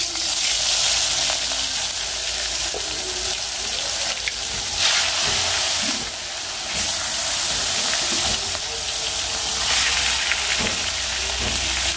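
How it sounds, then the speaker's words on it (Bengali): Pumpkin curry sautéing in a pan gives a steady, close sizzle and hiss, with occasional stirring scrapes and soft bubbling throughout and no talk. "আমি কুমড়োর তরকারিটা কিন্তু অলরেডি কষাইতেছি"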